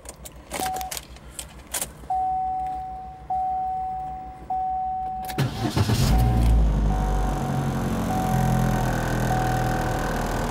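A 2012 Chevy Sonic's engine cranks and catches after a few clicks and a steady chime, then settles into a loud, steady idle heard close by with no talking.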